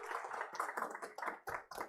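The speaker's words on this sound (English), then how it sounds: "Let's have a round of applause," Audience applause at a conference on digital data protection, a short burst of clapping hands, fairly quiet and uneven, tapering in a few separate claps.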